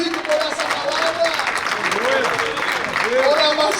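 A church congregation claps and cheers during a teaching service, a steady patter of applause mixed with loud vocal praise and a preacher's voice over the crowd.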